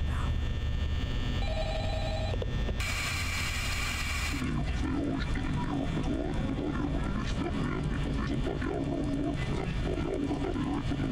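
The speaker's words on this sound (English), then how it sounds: "I just want us to hear the phone call" A phone rings in the Five Nights at Freddy's video game, loud and continuous under a dense, steady game soundscape with electronic tones.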